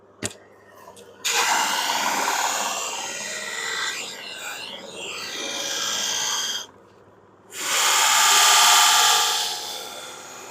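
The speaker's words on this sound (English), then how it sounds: "Now onto the polishing mop." A spinning polishing mop whirs against lacquered wood veneer car door cappings in long sustained passes, dropping off briefly before a louder, brighter buffing run.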